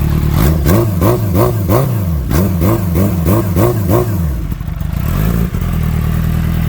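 A Kawasaki Ninja H2 with a new aftermarket exhaust and baffle inserted revs hard close by, with about nine quick rhythmic throttle blips that then settle into a rough, loud idle.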